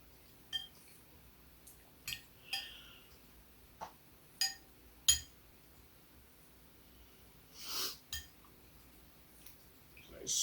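A spoon stirs chicken noodle soup broth in a pot, giving scattered light clinks and taps against the metal. The sounds come at irregular intervals over a quiet background, with a brief rustling scrape near the end.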